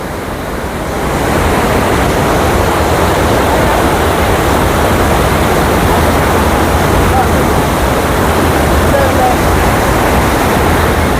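Water pours through the opened shutter of Kallarkutty dam in a loud, continuous roar of rushing water, heard close and unbroken throughout.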